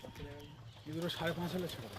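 A male pigeon coos in a loft, a few soft rounded calls close by, with someone talking over them.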